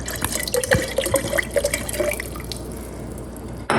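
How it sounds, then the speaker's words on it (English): Red wine vinegar poured into a container for a vinaigrette, a close, bubbling glug and trickle lasting several seconds that ends with a small knock, with no talk. "I'm going to add a cup of red wine vinegar."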